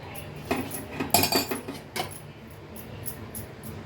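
Dhokla batter mixed by hand in a bowl, with scattered scraping and clinking bursts of utensil against the bowl, busiest in the first two seconds and then fading to a quiet background.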